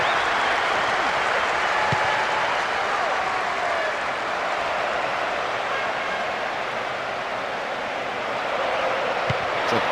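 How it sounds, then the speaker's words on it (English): Stadium crowd in the Winning Eleven 2009 football game cheering after a goal: a dense, steady roar of many voices and applause-like noise holding at a constant level for the whole stretch, with no distinct speech. "the goal that all of us were waiting for has come, and you can hear the relief from the crowd"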